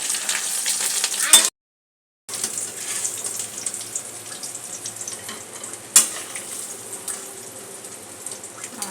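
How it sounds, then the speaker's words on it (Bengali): Eggs fry in hot oil, sizzling and crackling steadily up close, a dense continuous frying hiss broken once by a brief silence. "তেল গরম হয়ে গেছে এখন আমি ডিমগুলো একে একে দিয়ে দিচ্ছি"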